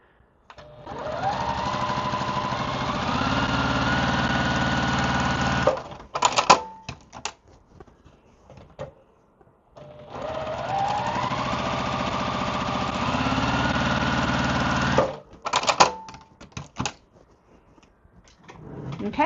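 A sewing machine stitches a fat quarter in two long steady runs of motor whir, each ending in a few short bursts and clicks as the fabric is adjusted, close and fairly loud.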